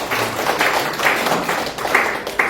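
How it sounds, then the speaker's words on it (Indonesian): Church congregation breaks into dense applause during a sermon, a continuous wash of many hands clapping, fairly loud and even throughout, with no speech on top. "Tepuk tangan buat Tuhan Yesus."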